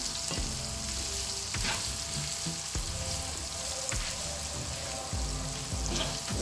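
A whole chopped onion sautéing in a pan for canned mackerel, a continuous soft sizzle with occasional spatula knocks and scrapes against the pan, close and moderate in level.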